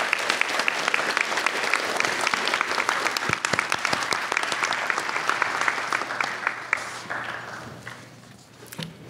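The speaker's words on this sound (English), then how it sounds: "Please join me in applauding the excellent work of our Dean's List students." A ceremony audience applauds Dean's List students, dense sustained clapping from a large crowd that holds steady for several seconds before thinning and tapering off toward the end.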